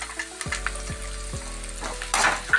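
Chopped onion, green chilli, garlic and carrot frying in a pan, a soft sizzle under a regular low thumping hum, with scraping stirs and a louder burst near the end, no speech.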